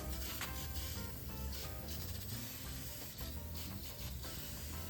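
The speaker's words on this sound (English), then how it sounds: "you want to fog this thing with like WD-40 so it doesn't flash rust" A WD-40 aerosol can hissing in short bursts, fogging a small-block Chevy engine's seized pistons, a soft airy spray repeated several times at close range, fairly quiet with no talking.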